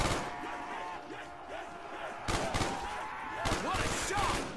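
Gunfire in Call of Duty World at War Zombies, on the Kino Der Toten map, comes as bursts of rapid game shots amid busy in-game noise and effects.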